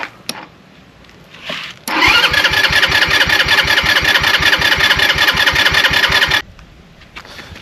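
A four-wheeler ATV engine cranks after its choke is pulled out, catches with a sharp burst and runs loudly at a fast, even idle for about four and a half seconds before cutting off abruptly.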